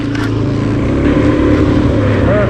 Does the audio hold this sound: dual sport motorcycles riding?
yes